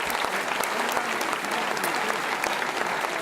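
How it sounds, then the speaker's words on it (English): A crowd fills the room with dense, sustained applause at the Men in Black Ball's seventh anniversary, a men's mental health awareness gala. The clapping holds steady and loud throughout with no pauses. "Can you give us a big round of applause for celebrating that tonight?"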